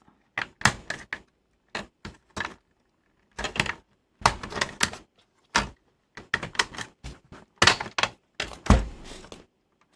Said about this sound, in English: Okay, now the eject button will push.